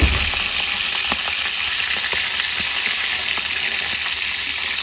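Catfish fries in oil in a pan, giving a steady, close, loud sizzle with scattered crackles and pops and no talking.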